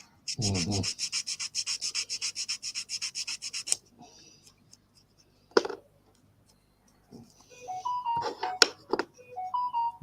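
Rapid, rhythmic rasping strokes of a round file on metal, working a drilled hole in an Emhar Bedford OLBD truck model, for a few seconds, followed by scattered clicks, knocks and faint handling noises.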